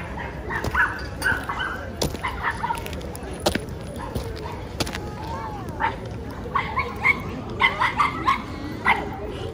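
A toy poodle barks and yips in short bursts indoors, its sharp calls scattered across the scene while people speak over and around it.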